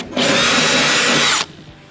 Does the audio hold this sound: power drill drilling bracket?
yes